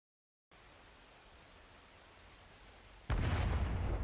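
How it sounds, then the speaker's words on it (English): Artillery bombardment in a strategy video game set in wartime: a quiet rainy hiss gives way to a sudden loud, sustained roar of shell explosions that fills the closing second. "This is bombardment."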